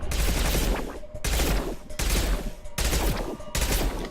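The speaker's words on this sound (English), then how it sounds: "So let's go ahead and switch to our machine pistol." A machine pistol firing disruptor ammo in Mass Effect 2 rattles out four loud, rapid bursts, each about a second long, separated by brief gaps.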